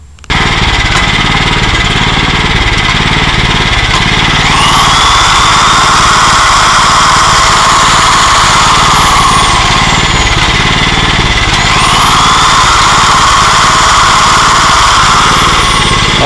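A portable generator engine runs steadily and loud at close range, a continuous droning roar with a high whine that rises twice, no voices present.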